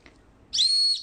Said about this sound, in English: We blow the cyber whistle on you now.